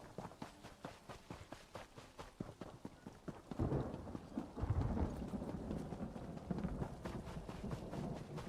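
Thunderstorm ambience in The Elder Scrolls Online, with low rolling thunder and steady rain swelling midway, layered over a rapid clopping rhythm like hooves or running footsteps throughout.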